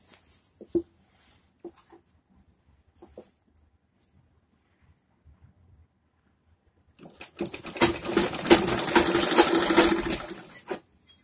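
A sewing machine runs a continuous stitching burst along a half-inch seam margin of cloth for a churidar pajama, loud and close, after several seconds of near silence with faint handling clicks.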